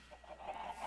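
Chickens in the Minecraft video game give a few short, soft clucks in quick succession, fairly faint and close, with no voices.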